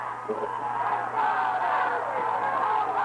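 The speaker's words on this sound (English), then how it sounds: "Reed and the crowds cheer." A crowd roars and cheers at a 1991 high school football playoff game between Robinson and Duquoin, a sustained swell of voices that rises and stays loud, heard from a distance in the stands.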